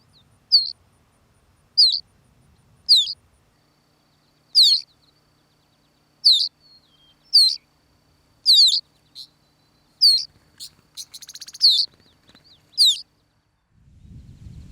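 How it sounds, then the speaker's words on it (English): A meadowlark sings in open Indiana prairie: a series of clear, sweet whistled phrases repeating every second or two, close and distinct against a quiet background, with a low rustle near the end. "Birds that nest low or on the ground are a common sight in the prairie, such as the meadowlark."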